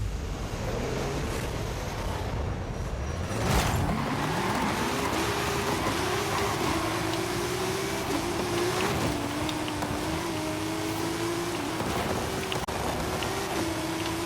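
Nissan Tsuru car engine in Forza Horizon 5, a continuous droning hum whose pitch climbs slowly and steadily as the car accelerates, with a brief louder surge early on.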